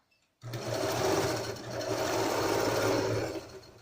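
A sewing machine runs a second seam over the first on a cushion with a zipper, starting abruptly after a brief silence and then buzzing steadily up close, dipping slightly midway before stopping.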